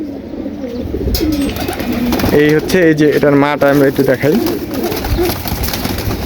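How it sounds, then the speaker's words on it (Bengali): Red plain pigeons, a well-known northern breed kept in a rooftop loft among buildings, coo softly and repeatedly at close range beneath someone talking over them. "এটা একটা লাল প্লেন কবুতর"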